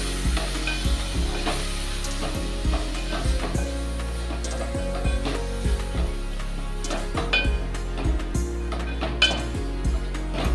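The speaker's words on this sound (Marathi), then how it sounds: "कोलंबी परतून घ्यायची छान तेलामध्ये." Prawns sauté in hot oil in a pan for prawn rice, a steady loud sizzle running throughout with repeated stirring scrapes and light clinks of a utensil against the pan.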